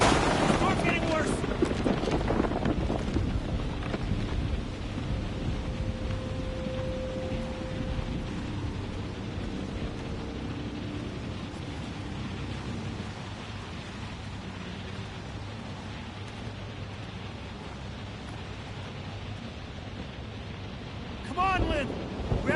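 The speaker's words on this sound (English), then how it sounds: "The storm's getting worse!" A thunderstorm with rain and rumbling thunder in the horror video game Outlast II, a steady downpour with low rolling rumbles that ease after a loud opening, while voices shout briefly near the start and end.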